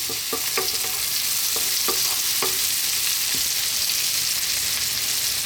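Onions frying in a pan for a garlic bacon tomato pasta, a steady broadband sizzle that holds throughout, with a few light stirring clicks and scrapes near the start and no talk.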